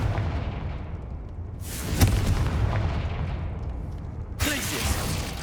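The Confringo fire spell goes off in Hogwarts Legacy as a deep, booming blast that swells and rumbles, with a second burst near the end, loud against ongoing game noise.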